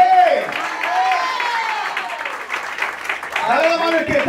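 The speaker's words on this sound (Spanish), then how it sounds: "Dale un aplauso al Padre y al Espíritu Santo." Applause from a church congregation fills the room for a few seconds, steady and fairly loud, while a preacher's amplified voice talks over the beginning and end.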